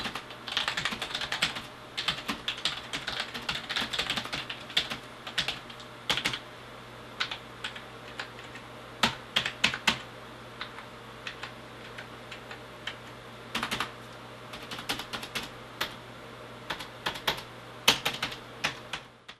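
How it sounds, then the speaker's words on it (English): Typing on a UTechSmart Saturn membrane gaming keyboard with 7-colour backlit keys: clusters of soft, fairly muted key clicks in uneven bursts and pauses, close to the microphone, with no voices. "It's also pretty damn quiet compared to most mechanical models, and here's a sample if you want to have a listen."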